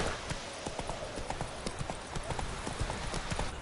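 Horse Roach trots through The Witcher 3 game world, a steady clip-clop of hoofbeats in close rhythm with faint ambient background and a brief low vocal moment.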